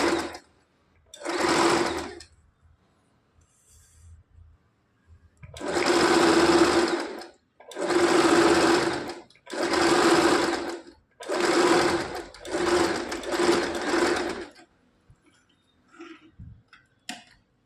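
A sewing machine stitches a three-piece princess-cut blouse in several steady bursts of rapid mechanical whirring, each lasting a second or two with short pauses between, close and loud, with no talking.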